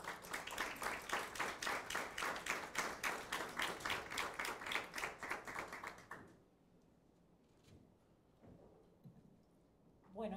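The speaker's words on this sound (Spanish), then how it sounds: "Un aplauso" A crowd at a celebration of a liver transplant program's tenth anniversary claps in a steady, rhythmic beat for about six seconds, then the sound falls to a quiet room with faint scattered noise.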